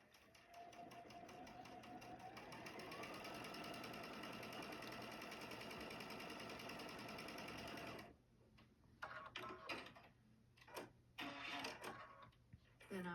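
A sewing machine stitches a quarter-inch seam on quilt pieces, a fast, steady mechanical whir that picks up speed, runs evenly for about eight seconds, then stops abruptly, followed by quieter handling noises and a voice speaking.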